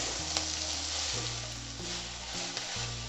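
Leafy greens for a Kerala moonnila thoran are stirred and mixed in a hot pan, giving a steady close sizzle and frying hiss with soft stirring scrapes throughout and no talk.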